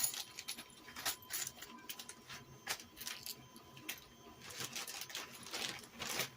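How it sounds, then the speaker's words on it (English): A 3D printer prints parts in the background with faint, busy mechanical whirring and rapid ticking from its stepper motors, and a low, continuous hum underneath. "You hear in the background, I'm printing away."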